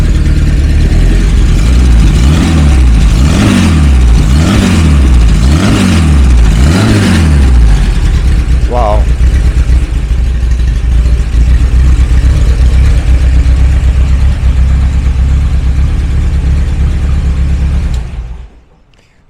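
A Porsche 356 Carrera with its four-cam engine runs close by, pulsing through several rhythmic revs before settling into a steady, crisp idle. One brief exclamation cuts in, and the sound drops away abruptly at the end.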